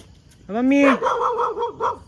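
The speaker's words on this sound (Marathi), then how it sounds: "2 कुत्रे मिळून खंडूला घाबरू राहिले" Two dogs: one gives a drawn-out howling bark followed by a string of quick, yelping barks, close and loud.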